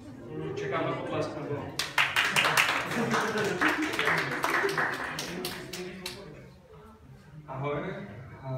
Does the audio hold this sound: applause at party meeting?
yes